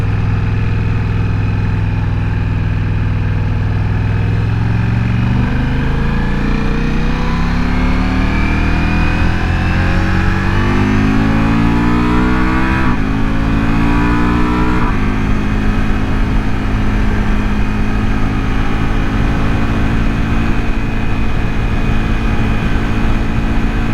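Ducati Multistrada V4 Rally motorcycle engine pulling steadily in fourth gear, a loud continuous drone with rising and shifting engine tones under heavy wind rush throughout the ride.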